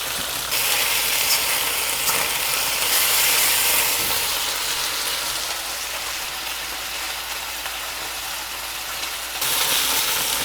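Chicken thighs sear in a pan over medium-high to high heat with a loud, continuous hiss and crackle. The hiss eases slightly midway, then swells again near the end, with no talking.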